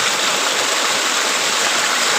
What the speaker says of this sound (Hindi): पानी जा रहा है।